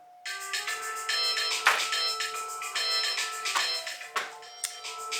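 A phone ringtone chimes nearby, a melodic electronic tune of bright repeated notes playing on its own for several seconds.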